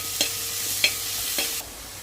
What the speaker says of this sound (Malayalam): തക്കാളി കൂടി ഇട്ട് കൊടുക്കാം തക്കാളി നല്ലോണം വാട്ടാം